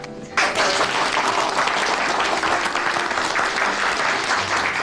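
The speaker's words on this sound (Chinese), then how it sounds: "让我们以热烈的掌声欢迎张司令的到来" Warm applause from an assembled group welcoming a commander bursts in after a brief quiet moment and continues as dense, steady clapping to the end, close and loud.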